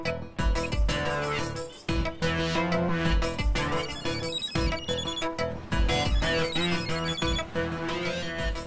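A mobile phone ringtone plays for an incoming call, a loud, continuous electronic melody with a steady beat that keeps going unanswered.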